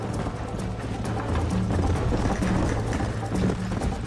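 Horse hooves clip-clopping at a steady gallop in the video game Red Dead Redemption, rhythmic and continuous against a busy game soundscape.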